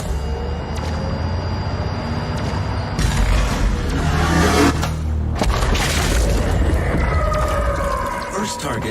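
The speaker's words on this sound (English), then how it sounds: "First target destroyed." A destroyed target explodes in a video game: deep booming blasts erupt with a rumbling crash around the third second, followed by another burst of debris-like crackle a few seconds later, all over a low, continuous game drone.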